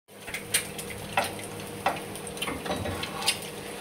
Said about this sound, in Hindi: अब इसमें मैंने अदरक लहसुन और प्याज फ्राई करने के बाद गोश्त भी डाल दिया है बहुओं का। अब इसको फ्राई करना।